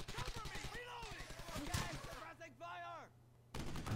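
Gunfire in the WWII shooter Brothers in Arms: Hell's Highway: sharp, loud bursts of shots crack in a rapid irregular rhythm, mixed with game noise and a low steady hum, ending in a dense wash of fire.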